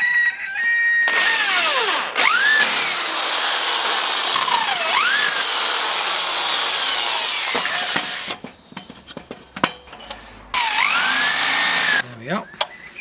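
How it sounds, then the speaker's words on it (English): A power drill with a 16mm wood bit bores through wood to reach a mounting bolt, a loud whining whir in long bursts that dips and recovers under load, with short pauses and a rooster crowing nearby. "So I'm going to drill it out with a 16mm"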